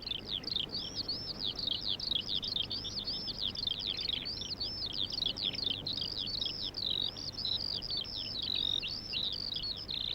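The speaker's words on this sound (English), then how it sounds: "the birds start to sing." Birds singing in a children's cartoon: a rapid chirping, warbling song that carries on steadily throughout, fairly faint, over a low hum.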